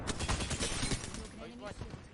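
Rapid automatic gunfire from the battle royale game Apex Legends rattles in dense bursts through the first half, tapering to lighter shots as a voice speaks over the action.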